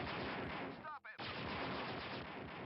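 Blaster fire in the Dark Forces video game, dense and continuous with one short gap near the middle, a loud stream of zapping shots throughout.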